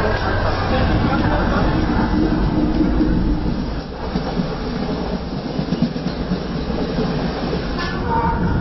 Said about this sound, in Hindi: जैसे जैसे पटरी पर रेलगाड़ी आगे बढ़ रही थी